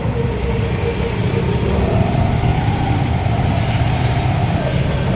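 A motorcycle engine runs steadily with a constant low droning hum, close and unchanging, with no talk over it.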